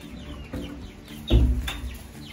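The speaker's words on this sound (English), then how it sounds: "we are gonna take these six-week-old chicks outside for the very first time" Six-week-old chicks outdoors making a few short clucks and chirps, with one louder burst midway, close by over quiet background.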